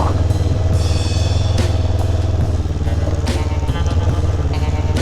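Off-road adventure motorcycle, a cheap used machine, ridden over loose gravel at a road works section: a steady, loud engine drone with low thrum, punctuated by clattering and crunching bursts from the tyres and chassis.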